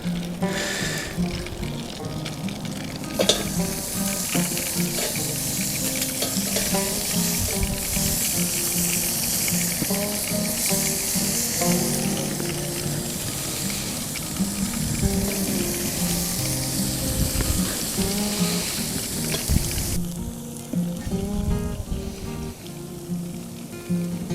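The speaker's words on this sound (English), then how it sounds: "let's put these ribeyes on" Ribeye steaks sizzle steadily on a grill over a campfire, a continuous crackling hiss with fire pops running throughout, close and fairly loud, with no talking.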